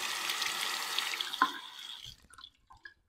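Tap water runs as a Merkur Futur safety razor is rinsed: a soft, steady hiss of flowing water for about two seconds, then it thins into a few scattered drips and trickles before quieting.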